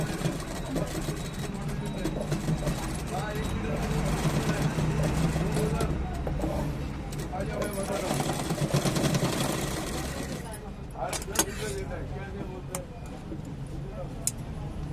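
A sewing machine stitches slowly through a heavy velvet blouse with dense embroidery, a steady close mechanical hum and rapid needle rhythm running almost continuously before tapering off, with someone talking over it.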